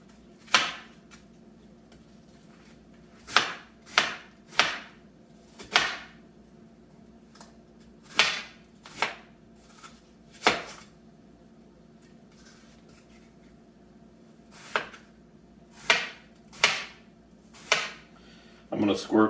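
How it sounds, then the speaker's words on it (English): Knife chopping apples on a board in a home kitchen while preparing apple pie, giving a series of sharp, close taps in uneven bursts with brief pauses between them. "So now I'm just going to cut these up and put them in here."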